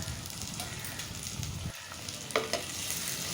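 Ginger, garlic and onions sauté in a pan for mutton curry with drumsticks, giving a steady soft sizzle and fry hiss throughout, with a brief pause and a few light stirring clinks near the end.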